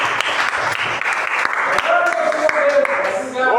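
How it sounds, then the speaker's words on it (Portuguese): A church congregation claps to welcome a preacher, a lively, steady patter of hands close by, with a voice speaking over it and a brief tonal sound near the end. "Vamos receber o servo de Deus com as palmas bem alegres para Jesus."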